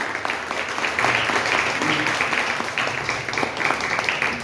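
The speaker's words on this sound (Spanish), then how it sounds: "dale un fuerte aplauso a Jesús" A church congregation claps loudly for Jesus during a service, a dense, rough round of applause with some voices mixed in.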